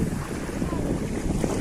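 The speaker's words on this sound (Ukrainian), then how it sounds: "Таке сьогодні було море." Rough Black Sea surf at a beach near Zatoka with strong wind buffeting the microphone, a loud continuous roar of waves and gusts with no voices.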